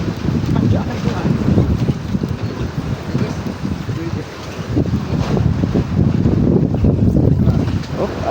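Strong wind buffets the microphone while waves slosh and splash around a boat, loud and unbroken throughout.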